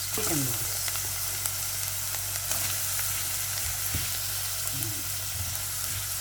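Meatballs or chicken balls dropped into a frying pan for misua soup, sizzling steadily and loud throughout with a few faint scrapes in the pan.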